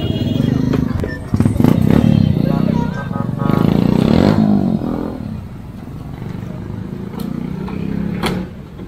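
A motorcycle engine runs steadily up close under loud talk, with clattering knocks and rattles during a debris-clearing outing.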